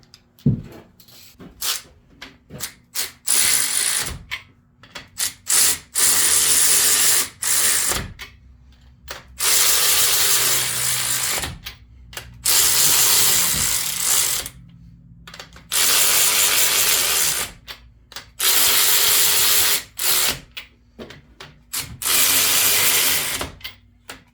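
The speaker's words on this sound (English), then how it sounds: "with me torquing these in sequence and then doing the final torque on them in sequence" A ratchet wrench torques engine bolts in sequence during an LS engine swap, with repeated bursts of loud, close, rapid mechanical clicking separated by short pauses.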